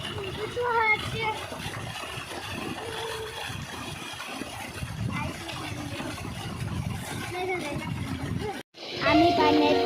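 Water splashes in a village well as people wash muddy hands and feet, a busy, ongoing splatter mixed with children's voices chattering close by.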